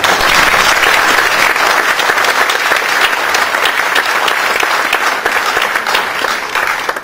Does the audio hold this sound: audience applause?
yes